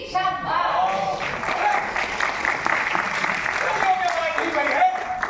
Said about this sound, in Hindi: सारे ताली बजाने लगे हैं।